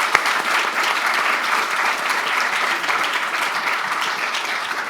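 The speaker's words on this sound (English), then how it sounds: "we'll give a huge round of applause and thanks to Jérôme and to Guy" Audience applause at an art forum event, a dense, steady wash of many hands clapping at moderate loudness for several seconds, with one sharp bump near the start and no talk.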